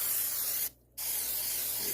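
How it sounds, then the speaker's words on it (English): Cooking spray hisses onto a hot double-sided waffle iron in two bursts close up, a steady loud spray broken by a brief pause. "So let's go ahead and give it a spray."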